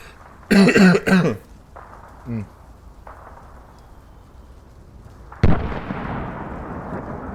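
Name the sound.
coughing and throat clearing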